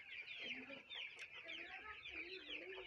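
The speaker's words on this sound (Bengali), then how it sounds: "দুইটা মুরগি অসুস্থ, বেশি আছে না, দুইটা মুরগি আছে অসুস্থ।" Chickens on a poultry farm where a couple of birds are sick, clucking softly and continuously in close, overlapping calls with a brief louder squawk near one second.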